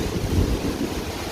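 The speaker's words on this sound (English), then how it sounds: "It's very windy out here." Strong wind gusts outdoors during a storm beside a house, a loud, continuous low roar and buffeting on the microphone that swells and eases without pause.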